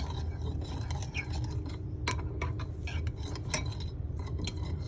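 A utensil stirs and scrapes in a bowl, mixing in pepper and salt, with a steady run of small clinks and taps over a low background hum.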